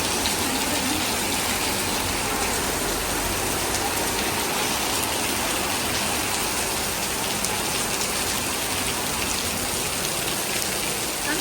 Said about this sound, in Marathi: आम्ही शॉपिंगला निघालो आणि पाऊस आला खूप खूप खूप खूप जोर आला